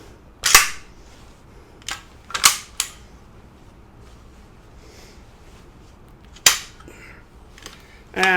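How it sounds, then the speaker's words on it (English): Metal parts of a WWII British Sten MKII submachine gun clack and snap as the bolt is handled and pulled out, with several sharp, close clicks spread apart over a quiet room. "And you pull the bolt out."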